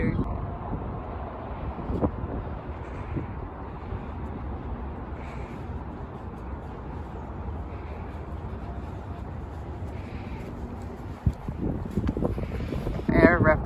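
Strong wind buffets the microphone in a constant rough roar, with gusts swelling and a few louder thumps near the end.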